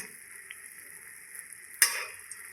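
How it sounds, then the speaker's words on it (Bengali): Homemade bakery-style biscuits fry in oil in a pan, a faint steady sizzle broken by one sharp clatter as they are turned over. "একটু লাল করে ভেজে নেব।"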